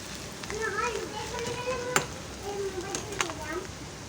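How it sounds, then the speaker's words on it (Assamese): Chopped onions sizzle and crackle in a hot pan while ghugni is cooked for a Janmashtami offering. There is a steady, moderately loud frying hiss with occasional sharp pops, and children's voices can be heard in the background. "এতিয়া মই পিঁয়াজখিনি ভাজিব লৈছোঁ"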